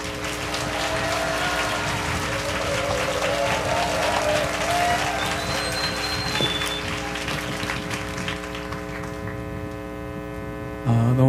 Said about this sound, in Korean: 귀한 선교사님 앞으로 모실 때 큰 박수로 할렐루야 환영해 주시기 바랍니다